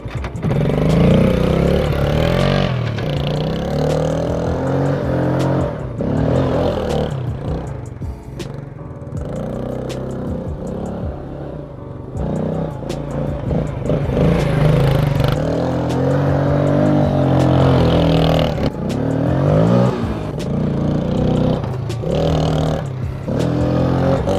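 Motorcycle engine running while ridden, a rough rumbling drone that revs up and down with gear changes and bursts of acceleration, loud and close throughout, with no clear talking.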